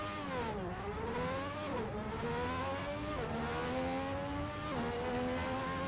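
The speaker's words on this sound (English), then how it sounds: "This car sounds so good." An LMP2 prototype race car engine in a racing video game revs high and shifts repeatedly, each gear change dropping the pitch before it climbs again, loud and continuous with no talk.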